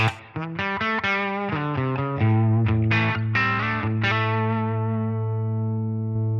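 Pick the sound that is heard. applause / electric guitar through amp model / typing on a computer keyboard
electric guitar through amp model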